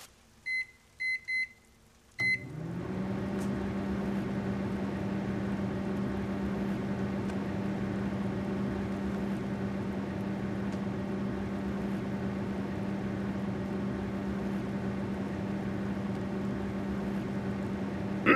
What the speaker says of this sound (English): could I possibly use your microwave to heat my frozen dinner?